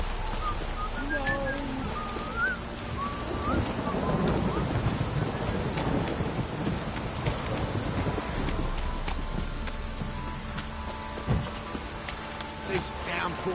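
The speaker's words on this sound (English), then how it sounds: "This downpour's a bastard," Steady rain hisses throughout, with low thunder rumbling underneath and a few faint tonal sounds drifting over it, from rain and thunder in a video game.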